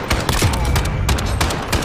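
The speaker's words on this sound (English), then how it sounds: "Nice shot, Camantha." Rapid bursts of gunfire from the video game Modern Warfare rattle in quick succession, loud and close, with several sharp shots clustered over a couple of seconds.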